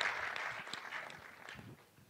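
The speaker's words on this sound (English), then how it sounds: "Let's give her a round of applause." An audience claps at a Black History and Culture Day event honoring Recy Taylor, a steady patter of many hands that sounds somewhat distant and gradually thins out.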